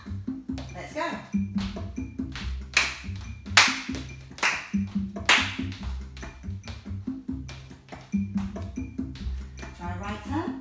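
Salsa dance class practising the time step, with hand claps and tapping feet keeping a steady beat over rhythmic salsa music, as an instructor talks throughout.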